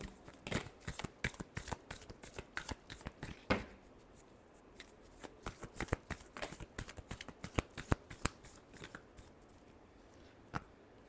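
Tarot cards are shuffled by hand at close range in a quiet room, giving a rapid run of soft, crisp riffling snaps and taps that goes on steadily throughout.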